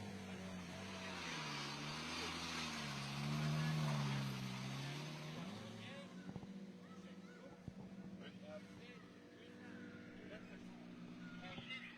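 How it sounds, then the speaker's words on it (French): A Porsche 991 Cup car at a rally stage stop control roars and revs, its engine note rising and falling in steady harmonics before settling into a rough idle with clicks and pops. Voices talk over it. "Avec cette monstrueuse Porsche"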